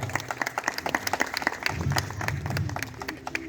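Audience applause at a felicitation ceremony, dense steady clapping from a crowd that swells slightly in the second half, with faint background voices beneath.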